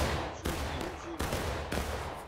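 Rifle gunfire in the War of Rights video game: four loud, close shots spaced roughly half a second apart, each a sharp crack followed by a rolling decay.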